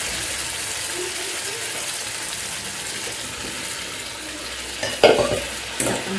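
Cooked dal is poured into a hot tempering for drumstick sambar and stirred, making a steady soft sizzle with scraping spoon sounds. A couple of louder splashy clatters come near the end.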